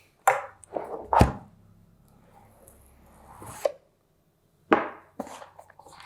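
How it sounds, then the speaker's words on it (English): A steak knife slicing open the cardboard box of an Oppo Reno8 Pro smartphone, with a few sharp close cuts and scrapes separated by short quiet gaps. "Let's open it up with my steak knife."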